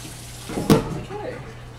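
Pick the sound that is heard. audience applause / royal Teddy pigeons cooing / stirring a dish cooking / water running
water running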